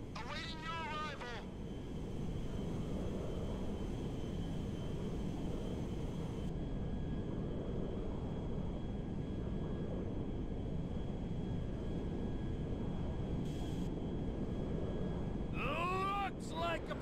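A jet aircraft in GTA V flies with a steady, broad roaring rush that holds for most of the stretch, with short radio-style voices speaking at the start and end.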